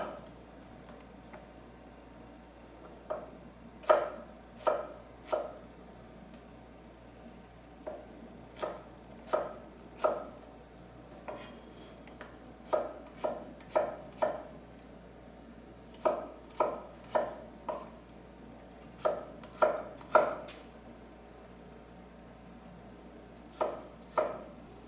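Knife chopping zucchini into half-centimetre slices on a cutting board: clusters of crisp, close thuds in irregular bursts, with short pauses between runs and no talk.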